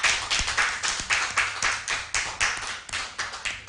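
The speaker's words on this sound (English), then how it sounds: "A round of applause for all six." A small audience at a civil service association electoral debate in Jamaica claps, with distinct individual hand claps in a brisk, uneven rhythm, fairly close and moderately loud.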